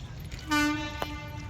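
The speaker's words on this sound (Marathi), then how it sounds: "ट्रेन आली" A train horn gives a single short toot, harmonic and fairly loud, followed by a quieter second blip, over a low rumbling background.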